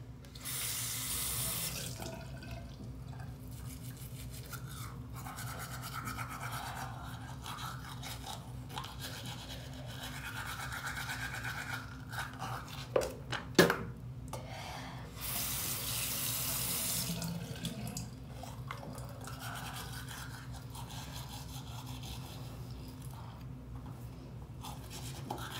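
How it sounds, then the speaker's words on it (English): A bathroom sink tap runs steadily while teeth are brushed, water hissing continuously with a few sharp knocks and scrapes near the middle and louder gushes at the start and end, with no talking. "Next thing I do is brush my teeth."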